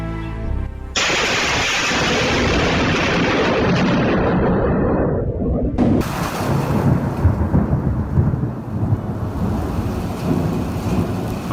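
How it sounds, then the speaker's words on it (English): Thunder from a lightning strike on a tower in Toronto opens with a sudden loud crack and a sustained roar, then a second sharp crack gives way to long rolling rumbles over steady rain. "On June 23, 2017, a lightning strike hit a tower in Toronto."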